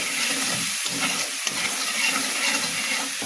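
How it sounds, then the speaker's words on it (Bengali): Chilli spice paste sautés in a pan, a steady close hiss and crackle of frying with soft stirring scrapes mixed in and no voices. "মশলাটা কষিয়ে নিয়েছি"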